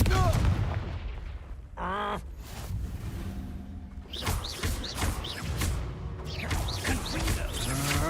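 A Confringo fire spell goes off in the Hogwarts Legacy video game, giving booming blasts and crackling impacts over a loud game soundscape, with a voice shouting briefly partway through.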